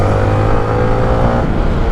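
Yamaha Sniper 155 motorcycle with an R15 engine, heard while riding: a loud, close, steady engine drone with a constant buzzing pitch throughout.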